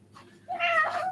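A single drawn-out cat meow, close and fairly loud, rising then trailing off, about half a second in, with faint low background hum beneath.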